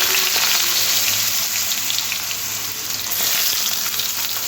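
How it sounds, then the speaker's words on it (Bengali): Chunks of potato frying in oil and being stirred, for Bengali-style lau chingri: a loud, continuous sizzle up close with scraping stir sounds mixed in, and no talking. "আলুটা একটু তেলের মধ্যে নাড়াচাড়া করে ভেজে নিই"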